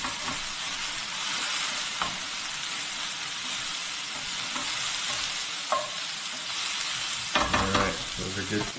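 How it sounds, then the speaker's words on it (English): Vegetables stirred in a sizzling frying pan: a constant frying hiss with occasional utensil scrapes and knocks, one busier burst of stirring near the end, close, no talk. "Give my veggies a stir."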